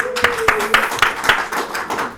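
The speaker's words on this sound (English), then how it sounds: "Can you give a round of applause?" Brisk, evenly spaced claps ring out at a corporate panel discussion for an audit and risk panelist, a few hands close by beating a quick regular rhythm with a faint voice tone underneath.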